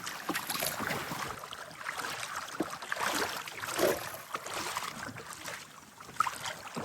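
A small boat rowed across a flooded monsoon wetland, steady water splashes and oar strokes against a breezy outdoor background, no talk.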